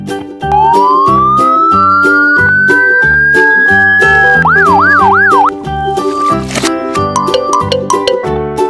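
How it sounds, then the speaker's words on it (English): A toy police car sounds its electronic siren loudly up close, a rising wail followed by quick warbling sweeps, with bright jingly toy tones and beeps throughout. "Police car."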